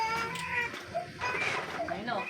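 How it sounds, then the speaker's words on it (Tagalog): Sharp, chirpy calls from a lovebird ring out close by, mixed with people talking over them. "Lovebird."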